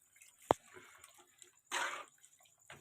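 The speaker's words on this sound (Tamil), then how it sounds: "ஒரு 200 ml தண்ணி சேர்த்துக்கிடுவோம்." Water poured into a pan of chicken kurma masala paste, a sharp splash followed by quieter bubbling and a second gushing pour, close and fairly soft in a quiet kitchen.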